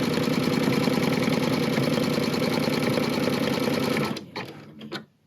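An embroidery sewing machine stitches the back onto an in-the-hoop zippered bag with a loud, fast, even mechanical whir for about four seconds, then stops, followed by a few soft handling clicks.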